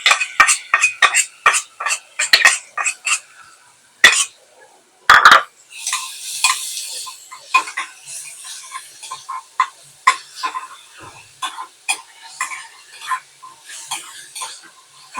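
Finely chopped onion sautéed in a pan for masoor pulao, with a spatula scraping and clattering in quick, close strokes. A busier, denser stretch of stirring comes partway through, and the sound plays alone without talk.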